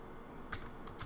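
Quiet keystrokes on a computer keyboard while typing text into a Word document, a few soft clicks in a short burst with a faint background hum.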